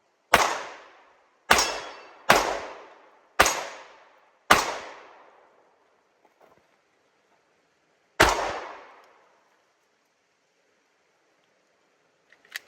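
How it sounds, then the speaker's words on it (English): Canik MC9 pistol fired outdoors: five sharp, loud gunshots in quick succession with short ringing decays, a pause, then one more shot, followed by quiet. "Boy, this is a comfortable shooting little pistol."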